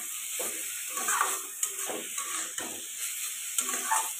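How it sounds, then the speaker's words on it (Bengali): Grated carrot halwa with sugar is stirred in a pan, rhythmic scraping strokes repeating about every half second over a soft sizzle, close by, with no speech. "এখন ভালো করে চিনিটা দিয়ে কিন্তু মিক্স করে নেব"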